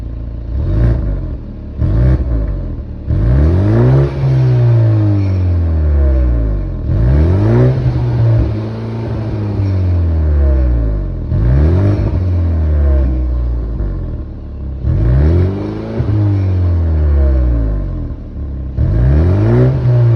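A 2023 BMW 230i fitted with an OEM 2022 Toyota Supra 3.0 twin-scroll turbo exhaust revs repeatedly: loud, close blips climb sharply and fall back, with a rumbling idle and crackles between them.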